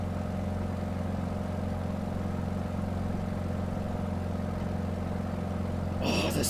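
A Beechcraft Staggerwing aircraft engine in a flight simulator drones on steadily at a loud, even level as a constant low hum, with a brief extra burst of sound near the end.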